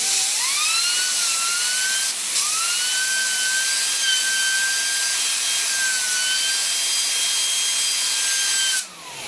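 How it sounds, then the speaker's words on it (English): Compressed air from an air compressor line spins a computer fan, a steady whining whir that ramps up at once and holds for several seconds before stopping abruptly. "So I ran my air compressor line down here, and I just give it a little shot of"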